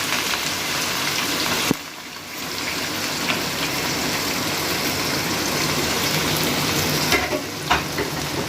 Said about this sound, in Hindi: ये हमने कद्दूकश कर लिए थे प्याज, तकरीबन 2 अदद प्याज हैं, ये हम इसमें डाल देंगे, फ्राई करने लगे इसको